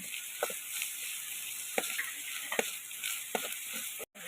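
Grated coconut roasting with shallots and garlic in a pan hisses with a steady close sizzle, while a spoon stirs the mix in repeated scraping strokes about every second.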